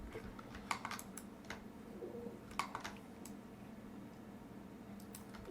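Computer keyboard being used for shortcut presses while unwrapping UVs in Maya, a few faint, sparse clicks in small clusters over a quiet low room hum.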